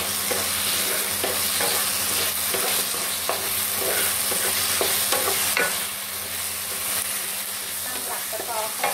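Stink beans (sator) stir-fried in a wok, a loud steady sizzle broken by repeated scraping and tossing strokes, close up and uninterrupted.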